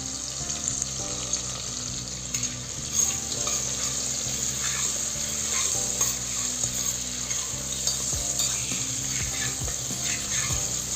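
Onions sauté in a pan with rock salt and turmeric for a spinach curry, a soft continuous sizzle with occasional stirring scrapes and clinks, fairly faint and close, without speech.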